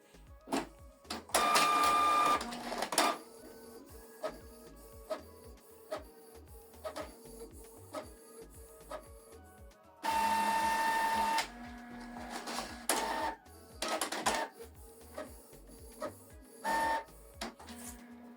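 A Canon PIXMA TR4755i printer prints a document: loud bursts of mechanical whirring and feeding alternate with quieter stretches of clicks and soft motor hum, all close up with no talking.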